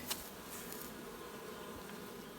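Honeybees buzzing steadily during hive work as bees are shaken from brood frames, a dense continuous hum close by with a brief louder burst near the start and no talking.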